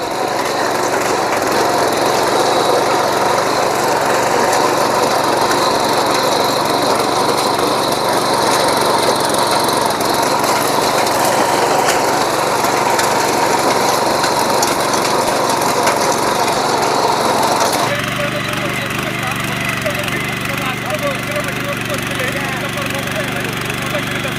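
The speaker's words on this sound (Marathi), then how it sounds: "मित्रांनो बघू शकता तुम्ही मशीनचा परफॉर्मन्स इंजिनची जी ताकद आहे का नाही ती तुम्हाला लक्षात आली असेल" A power weeder with a shock absorber runs steadily close by, its small engine giving a loud, constant drone that drops to a lower, softer idle near the end.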